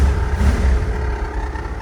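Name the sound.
old V8 truck engine running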